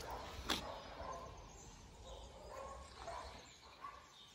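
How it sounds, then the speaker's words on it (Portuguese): A dog barks faintly in the distance, a few scattered yips over quiet outdoor ambience. "É o cachorrinho, filha."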